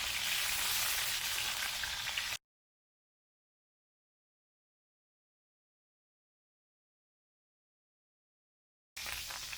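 Flipped steaks sizzle in a hot pan, a close, even crackling hiss that cuts off into total silence for several seconds and then resumes.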